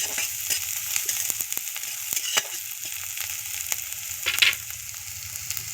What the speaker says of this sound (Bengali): খুব সুন্দরভাবে ভাজা ভাজা হয়ে এসছে।